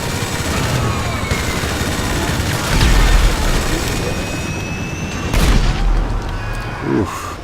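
Rapid minigun fire and booming blasts in GTA 5 Online crackle through a dense, continuous battle din, with heavier thumps standing out near 3 and 5.5 seconds.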